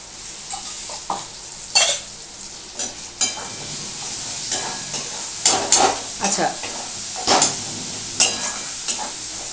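Steady frying sizzle of oil heating for boal fish, with repeated scraping and stirring clatter from a spatula against a pan, close up, no talking.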